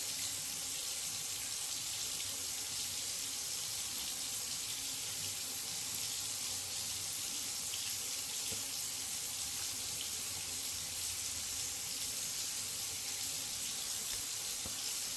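Tap water runs steadily into a bathroom sink for face washing, a continuous close hiss and splash with no talking.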